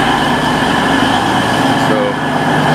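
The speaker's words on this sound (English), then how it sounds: "So there's a train in" A steady, loud, low rumble and hum from an East Midlands Railway train standing at a station platform, continuous engine drone with faint tonal whine throughout, close by.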